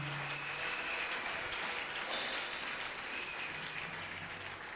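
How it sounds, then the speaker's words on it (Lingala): A church congregation applauding for Jesus during an intense prayer service, dense continuous clapping from a large group that fills the room at an even level. "Acclame bien fort pour Jésus."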